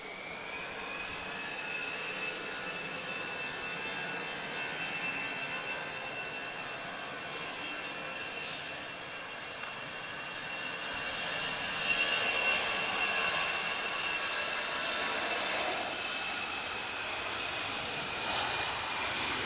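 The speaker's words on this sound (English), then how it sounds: "A320-214 from Iberia" An Iberia Airbus A320-214 jet departs Lisbon Airport for Madrid, its steady engine roar droning throughout and swelling slightly louder partway through, heard alone with no voices.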